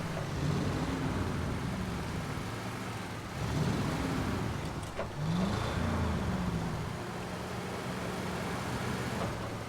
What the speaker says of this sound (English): You hear the engine roar.